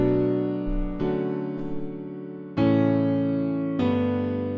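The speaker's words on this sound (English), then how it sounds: "just throw them on like a default piano or something." Default piano in FL Studio plays sustained chords quantized tightly to the grid, four block chords struck together with notes starting at once, ringing fully and cleanly with no other instruments or voices.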